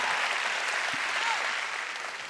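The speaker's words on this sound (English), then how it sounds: "Clap your hands if you're ready for God's word today." Church congregation clapping their hands in a steady wash of applause, sustained and fairly even throughout, with no clear voices standing out above it.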